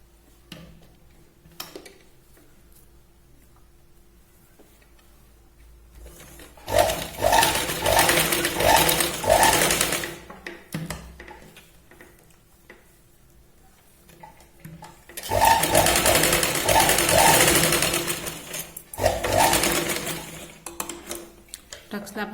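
Sewing machine running a double line of stitching along a tuck on a boat-neck blouse, in two loud bursts of several seconds each, separated by quieter pauses and handling sounds.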